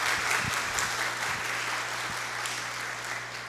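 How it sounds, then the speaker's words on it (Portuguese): An audience at a postgraduate graduation ceremony gives a steady wash of applause, fairly faint and distant, holding evenly throughout with no voices rising above it. "Vamos dar uma salva de palmas pelo trabalho de apoio que elas têm feito?"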